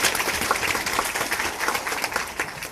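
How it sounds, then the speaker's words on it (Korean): Audience applause for a council member at a public meeting, dense steady clapping from a crowd filling the whole short stretch, fairly close and loud with no talk over it. "우리 정상주 의원님한테 큰 박수 한번 다시 한번"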